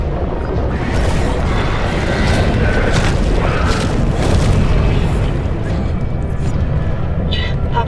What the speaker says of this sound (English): Hostile entity detected. Deploying gas and vortex torpedoes.